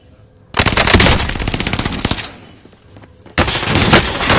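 Rapid bursts of automatic machine gun fire in a multiplayer shooter video game, loud and sharp, with a long volley followed by a pause and a second burst.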